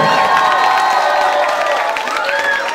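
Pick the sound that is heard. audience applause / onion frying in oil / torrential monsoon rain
audience applause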